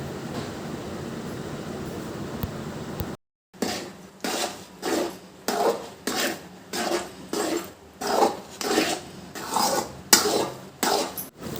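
Tapioca halwa is stirred with sugar in a pan, a steady back-and-forth of rhythmic scraping strokes, close and fairly loud, repeating about every second.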